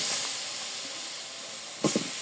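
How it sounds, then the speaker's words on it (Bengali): Chilies fry in a pan of hot oil with a steady, loud hiss, broken near the end by a few quick scrapes or spatters. "আর এখানে মরিচটা একটু ভালো করে ভেজে নিব"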